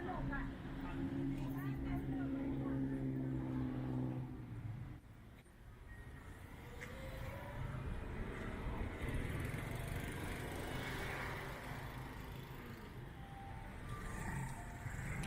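Road traffic rumbles past along a roadside, vehicle engines rising and fading at middling distance while someone talks over them.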